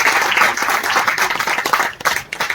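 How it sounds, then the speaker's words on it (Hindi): Audience at a Bhojpuri song launch event claps steadily, a dense burst of many hands with uneven peaks that thins and flutters toward the end, with faint voices mixed in. "जब ताली बजाते हैं"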